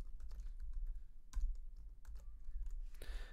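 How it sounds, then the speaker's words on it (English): Computer keyboard keys tapped while entering a MAC address, a quick irregular run of close, crisp clicks with a couple of heavier strokes and a louder clack near the end. "Let's type in a fake MAC address here."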